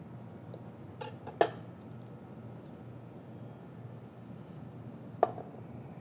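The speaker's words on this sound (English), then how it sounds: "Just chopping off those last few ends there." A knife trimming the ends off asparagus on a cutting board for a citrus and pea salad, two sharp, isolated chops several seconds apart in an otherwise quiet kitchen.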